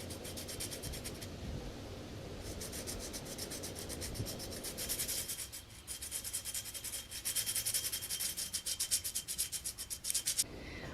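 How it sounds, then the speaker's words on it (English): Sandpaper rubbing over painted mason jars with gold-painted rims, a steady close scratchy rasp running almost continuously, rising and falling in intensity with brief pauses in the strokes. "And now I'm going to move on to the sanding."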